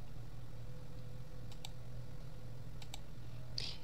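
Soft, close computer mouse clicks come in two quick pairs against a quiet room hum, followed by a brief faint rustle, with no speech.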